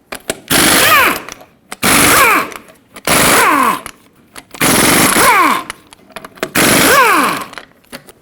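An impact wrench zips off the 21mm lug nuts on a Ford F-350 front wheel in five loud, rattling bursts of about a second each, with short quiet gaps and faint clinks between.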